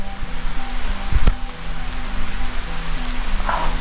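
Steady rain falls outdoors as a continuous close hiss and patter, with a couple of heavier drips or thuds standing out partway through and no voices.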